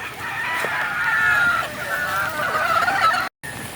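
Many hens cluck and call together in a busy poultry flock, a loud, continuous chorus with overlapping squawks and a brief cut near the end.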